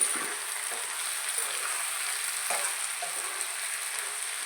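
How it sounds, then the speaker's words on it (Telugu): Brinjal and egg sizzle steadily in a hot pan, a continuous bright frying hiss with a few soft stirring knocks, close and alone without talk. "ఇప్పుడు బాగా ఫ్రై చేసుకోవాలి"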